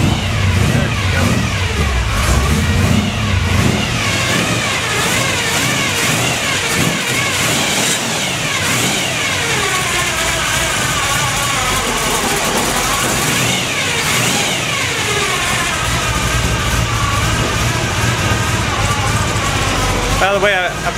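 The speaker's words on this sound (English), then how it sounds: "I forgot to mention it also has a Pete Jackson gear drive, a real noisy one, if you didn't already hear it" Custom 1957 Chevy engine running with a noisy Pete Jackson gear drive: a loud, steady mechanical drone with a whining gear tone and rising and falling revs, while someone talks over it.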